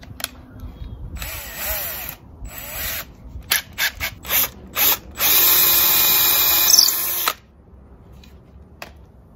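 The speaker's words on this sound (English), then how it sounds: "So let's go ahead and do that pilot hole first." A power drill bores a pilot hole for budget cable railing hardware in a series of short whirring bursts, then one sustained run of about two seconds, loud and close, with no talking.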